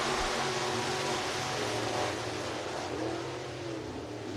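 Race cars roar through a heat race at Lee County Speedway, a dense engine drone with rising revs heard from a distance, steady and loud throughout without talk.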